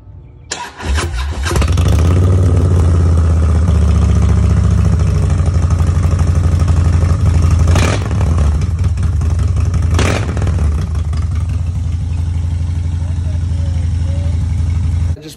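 A 2021 Harley-Davidson Standard motorcycle engine cold-starts and settles into a loud, steady idle, with two sharp revs breaking through partway and the rumble continuing close by throughout.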